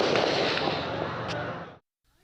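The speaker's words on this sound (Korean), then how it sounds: "달아나는 시위대를 향해 총성이 이어지고 총에 맞은 남성이 거리에 쓰러져 있습니다." Gunfire aimed at fleeing protesters on a street in Myanmar, heard as a dense, loud, continuous crackle of shots with a sharp crack near the end, cutting off abruptly into near silence.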